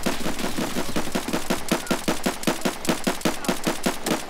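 Rapid pistol shots from a PM handgun in a shooter game crack out in a steady, evenly spaced string of about twenty loud reports, close and dry, with no talking over them.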